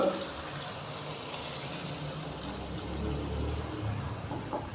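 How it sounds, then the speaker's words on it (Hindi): Half a glass of water is poured into a hot pan of seared chicken gizzards, giving a continuous rushing, sizzling wash of sound for several seconds. "तो अभी मैं इसके अंदर हाफ़ गिलास पानी डालूंगा।"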